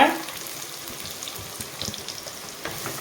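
Garlic and large onion hit hot sesame oil for a liver gravy, giving a faint, steady sizzle with a few soft crackles and pops that stay low and even throughout.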